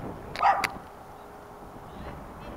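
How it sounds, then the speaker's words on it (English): A dog barks a couple of times in a quick burst at a shop, fairly close, then quiet room tone follows. "The dog there is barking at me."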